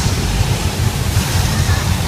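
Heavy water rushes and sprays loudly and continuously on the outdoor Jaws attack set of the Universal Studios Hollywood studio tour, a dense, close wash of noise.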